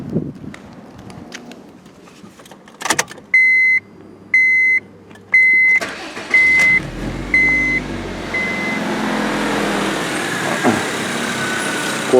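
A Honda Civic G8 with a sagging engine mount starts up: a few chimes first, then the engine cranks with a heavy jolt and settles into a steady, loud idle rumble.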